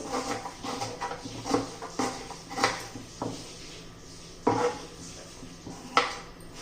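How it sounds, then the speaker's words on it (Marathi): Onion being chopped lengthwise on a board, a run of soft knife taps at an uneven rhythm, close and moderately quiet, with a few louder knocks and no talking. "त्यासाठी हा उभा कांदा चिरून घ्यायचा आहे"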